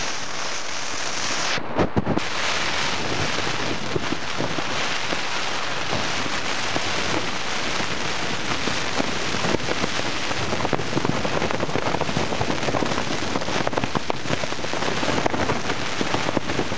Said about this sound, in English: Gale force winds and rain all night since about 11 o'clock last night.